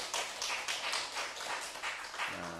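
A congregation at a Thursday evening service in a Korean prayer house claps together in steady, rhythmic bursts, filling the room with sharp, evenly spaced hand claps and no talk.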